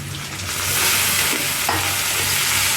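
Ginger-garlic paste and onions sauté in a pan for a mutton and drumstick kurma, giving a loud, steady, close sizzle with stirring scrapes throughout.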